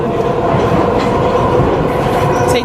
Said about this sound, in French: Dans le métro.